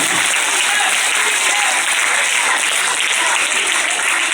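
An audience at a retirement function claps in a dense, steady burst of applause that stays loud for the full few seconds with no talk.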